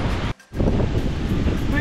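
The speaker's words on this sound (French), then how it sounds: "Voici la mer de Canggu, qui est bien plus agitée que ce qu'on a l'habitude de voir." Rough sea waves roar steadily at the Canggu surf spot, a loud, broad rushing wash mixed with heavy wind buffeting on the microphone, broken by one brief dropout.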